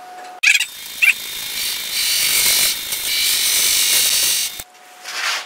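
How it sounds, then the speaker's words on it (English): A lathe tool cuts a tenon on a turned wooden peppermill, a steady scraping, hissing cut lasting a few seconds between short knocks and clicks at the start, then ending abruptly, with no speech. "grab my tool for cutting a tenon"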